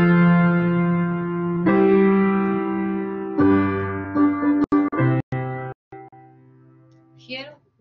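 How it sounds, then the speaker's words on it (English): A short music example showing tonal stability in a major key: sustained synthesized chords shift in steps, then give way to a few sharp staccato hits and a final brief flourish, loud and clear with no talking. "Here we were able to hear tonal stability in a major key"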